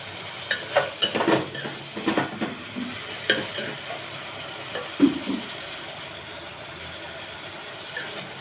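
Gongura and other greens are stirred in a pan for chutney, giving soft irregular scraping and rustling strokes with a faint sizzle beneath and quiet gaps between the stirs.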